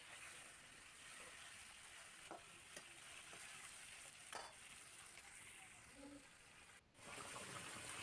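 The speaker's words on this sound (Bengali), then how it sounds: "দিয়ে দেবো বাকি মাছ কটা ঢেলে। একটু এদিক ওদিক হয়ে যাচ্ছে, তেল ছিটকে যাচ্ছে।" Many fish fry in hot oil, a continuous faint hiss and crackle with steady spattering and a few brief stirring scrapes. The sizzle carries on evenly throughout without talk.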